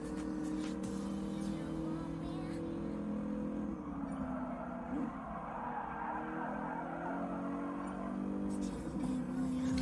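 Mercedes 300 SEL AMG engine droning steadily in a GT Sport one-make race, a sustained loud roar with shifting pitch and brief tire-squeal hints, no talk over it.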